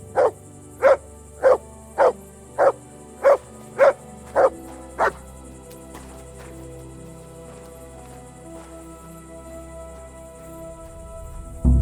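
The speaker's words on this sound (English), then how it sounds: "Clever dog." A dog in the video game Kingdom Come: Deliverance II barks nine times in an even, rapid rhythm, loud and close, then falls silent while a low ambient hum continues.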